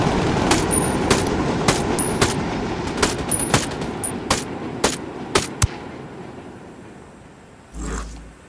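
Machine gun fire in the Ghost Recon Wildlands video game: loud, sharp bursts repeat at a steady pace over a rumbling background, gradually fading, with a low thump near the end.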